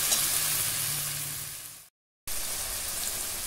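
Boiled taro leaves fry in oil in a wok with a close, steady sizzle, broken by a brief silent gap before the frying noise resumes.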